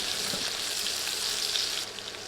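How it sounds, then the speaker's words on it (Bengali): Chopped onion sizzling steadily in hot oil in a pan while being stirred, a dense, even frying hiss that holds close and loud throughout, dipping slightly near the end. "নেড়ে নেড়ে ভেজে নিচ্ছি"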